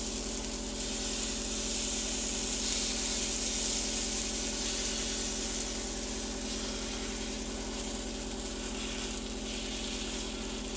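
Æbleskiver batter sizzles steadily in a very hot æbleskiver pan, a close, constant frying hiss with no pauses or talk.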